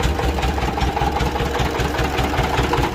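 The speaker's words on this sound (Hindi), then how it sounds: "तो ये इंजन के जरिए ये गन्ने का रस भी निकलता है और साथ ही साथ ये जो पूरी गाड़ी है वो भी चलती है" A small engine idles on a roadside sugarcane juice cart in Junagadh, the same engine driving both the crusher and the cart, running close and loud with a steady, slightly knocking chug.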